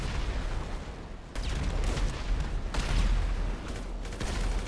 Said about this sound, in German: Explodiert nur noch alles